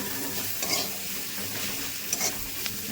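Spice paste for a Bengali crab curry sautéing in a pan, a continuous close sizzle broken by a few scraping stirs, with no talking.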